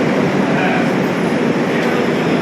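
Loud, continuous rumble and roar of a train at the platform of New Jalpaiguri station, Siliguri, dense and close, with no clear voices above the noise.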